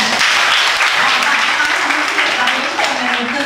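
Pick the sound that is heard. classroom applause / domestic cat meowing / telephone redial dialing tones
classroom applause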